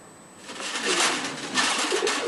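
Domestic pigeons kept on a farm in Gazipur, giving low, soft, rolling coos that swell twice over a short stretch, fairly close and without voices.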